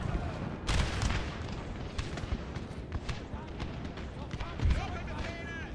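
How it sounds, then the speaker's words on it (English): Artillery cannons fire in Napoleon Total War, with booming reports and crackling shots over a battle din while someone talks throughout. "Just want to keep firing artillery as much as possible"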